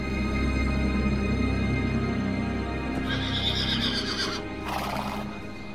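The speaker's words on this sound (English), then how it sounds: "Only Alexander understood why the horse was in a panic." A panicking stallion neighs and whinnies loudly over a steady rumble of stamping hooves, the cries rising in sharp bursts near the end, with no talk.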